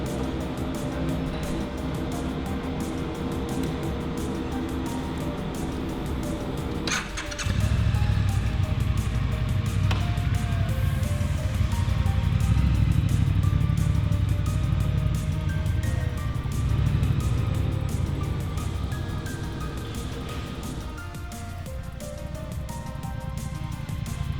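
A 2019 Triumph Speed Twin motorcycle rumbles up and rides on at a steady, moderately loud engine note, then eases off toward the end.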